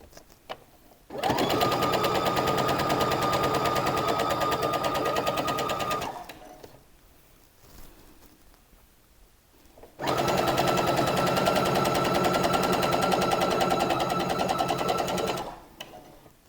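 Sewing machine stitching a seam on a summer dress, running in two steady bursts of about five seconds each, loud and close, separated by a quiet pause with faint handling noise.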